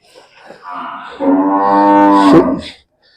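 A young buffalo heifer lets out a single loud, drawn-out low moo, close by, after a few faint shuffling noises, in Kairon village near Patti, Tarn Taran, Punjab.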